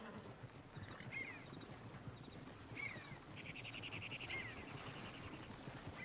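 Horse hooves clip-clop softly in Red Dead Redemption 2 against a faint outdoor game ambience with occasional bird chirps, steady and distant rather than up close.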